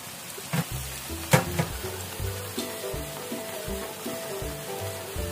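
Spinach vadai fritters made with drumstick leaves sizzle and crackle steadily in hot oil, close up, with occasional stirring and spoon clinks and no talk.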